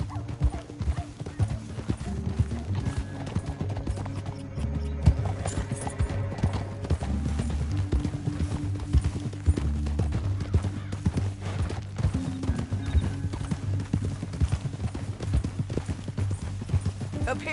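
Horses' hooves clip-clop in a steady galloping rhythm in the Red Dead Redemption 2 prologue, continuous and fairly close over a low rumbling score, with an occasional whinny and faint voices in the background.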